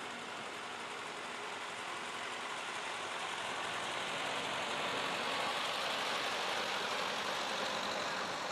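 A 1958 Ford N tractor pulling a two-bottom plow rolls along in an antique machinery parade, its engine a steady broadband rumble with outdoor noise, growing slightly louder as it approaches, no talking.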